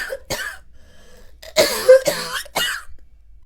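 A woman coughs repeatedly in a cartoon story set in a small mud house, with a short cough, a pause, then three harsh, loud coughs in quick succession, sounding close and with no speech.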